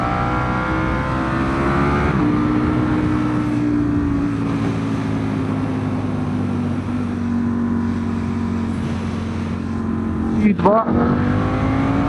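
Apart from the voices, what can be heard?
BMW S1000RR motorcycle engine accelerating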